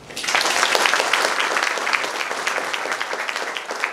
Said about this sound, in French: allez vous applaudir d'abord